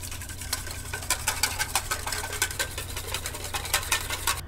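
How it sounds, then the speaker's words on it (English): A whisk clicks rhythmically and fairly quickly against a bowl, beating together honey, olive oil, grapefruit juice and thyme. The strokes are close and moderately loud over faint background hum, and nobody speaks. "we're going to whisk until they're very well incorporated"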